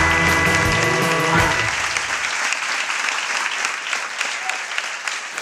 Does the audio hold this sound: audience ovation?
yes